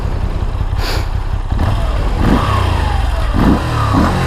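A 2021 Moto Guzzi V7 Stone motorcycle engine with stock exhaust idles and revs in short rising bursts, a fairly muted, mellow exhaust tone close by, with no voices.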